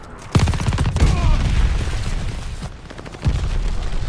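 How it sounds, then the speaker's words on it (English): A glide bomb strike in Call of Duty: Vanguard, with three heavy, close blasts whose rumbling tails linger, the first two close together and the last nearly three seconds later, amid ongoing battle noise. "Friendly sending a glide bomb."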